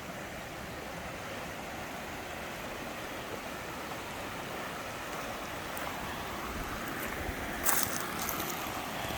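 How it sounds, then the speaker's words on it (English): A mountain stream spilling as a waterfall toward the Tennessee River gives a constant broad rushing wash of water, steady and even throughout with a brief brighter splash near the end and no talking. "this stream is, or I should say waterfall, runs off the mountain and into the Tennessee River"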